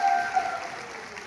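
Audience at a business gathering applauds the management team, a short stretch of steady clapping that fades slightly as it goes, moderately loud with no clear voices.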